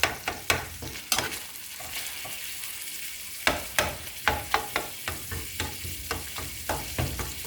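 Fideo noodles and ground beef sizzle steadily as they fry and brown in a pan, broken by sharp clacks and scrapes of a spoon stirring, close up with no talk.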